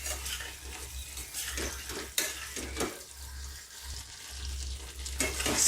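A petha (ash gourd sweet) mixture is stirred in a pan as its sugary liquid cooks down, giving steady scraping strokes over a soft continuous sizzle, close and moderately loud with no talking.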